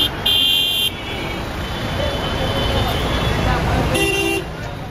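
Busy road traffic in Dhaka rumbles while loud car horns blare, two long honks at the start and another near the end.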